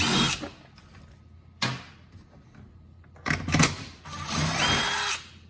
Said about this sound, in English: Now the next couple I'm going to undo are down here.